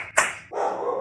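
A single dog bark rings out sharply near the start, followed by a sustained mid-range tone, with no speech in the clip.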